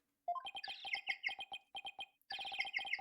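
A cute penguin-style chirping ringtone rings out in the Ace Attorney game, rapid electronic peep-peep bursts with brief gaps between phrases, loud and close with nothing else over it.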